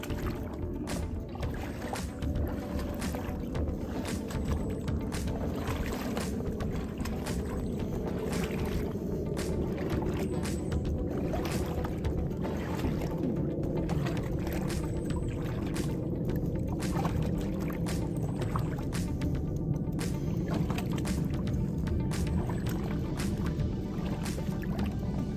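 Floodwater rushes steadily over a trail at Hal Scott Regional Preserve, a continuous close churning wash of moving water that holds for the whole stretch without pause.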